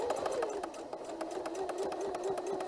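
A hand-cranked sewing machine stitches through waterproof canvas with a steady, rapid mechanical chatter and a whirring hum that runs close and continuous throughout.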